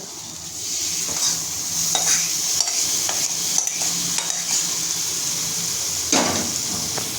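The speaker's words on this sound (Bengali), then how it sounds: "ডালটাও ভালো করে মিশিয়ে নেব" Dal being stirred into a coconut-onion paste in a hot pan, loud continuous sizzling with repeated scraping and knocking of a spatula, no voices.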